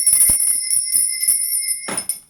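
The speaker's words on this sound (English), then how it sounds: "I'm going to ring my bell. This is just to cleanse the space around us" A small bell is rung several times in a cleansing ritual, with bright, sustained tones lingering over the strikes. It is close and clear, and no one talks.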